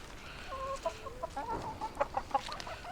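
Chickens cluck in short, soft bursts with a few sharper notes, heard at a moderate distance against a quiet outdoor background at a historic farm site.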